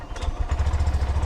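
A motorcycle engine with a secure exhaust and no leaks runs close by with a steady, low, throbbing idle and a slight mechanical clatter.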